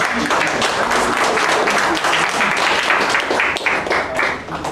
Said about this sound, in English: Let's give a big round of applause to Toastmasters.